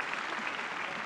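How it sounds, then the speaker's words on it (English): Applause for professional tennis players after a match at a pre-Wimbledon event, a dense, steady round of clapping from the crowd that holds level throughout. "I think they deserve another round of applause for our fabulous tennis players"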